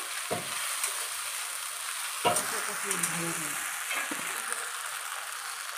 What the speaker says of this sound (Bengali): মশলাটা দিয়ে নাড়িয়ে নিচ্ছে, কষা কষা করবে মশলাটাকে।